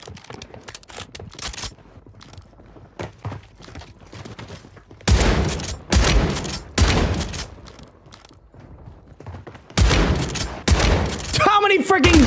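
SPAS-12 shotgun fire in Call of Duty on Rebirth Island comes in loud, dense bursts of rapid blasts, two heavy volleys separated by quieter stretches of distant shots and game noise, with a voice talking over parts.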